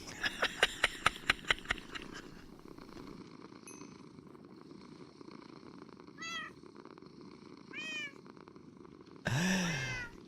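Minecraft cats meow in short rising-falling calls, a handful scattered across the stretch and one longer louder cry at the end, over a steady low purring hum with a quick run of clicky taps at the start.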